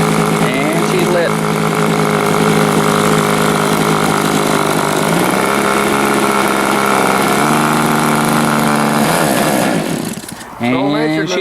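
The glow engine on a 60-size Reactor model biplane runs with a loud, buzzing drone that shifts pitch a few times, then sputters and dies near the end.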